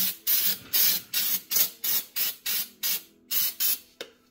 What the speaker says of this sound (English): now all you need is a bit of degreaser spray